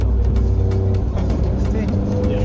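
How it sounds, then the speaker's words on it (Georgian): Engine and road noise from inside a moving 2018 Honda Civic, a steady close rumble with faint ticking and clicks over the drone, and a person speaking over it. "ესეც ჩვენი მანქანა."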